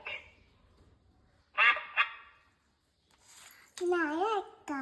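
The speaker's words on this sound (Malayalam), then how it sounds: "Duck." Two quick nasal quacks sound from a toy's tinny speaker, followed later by a voice speaking a word.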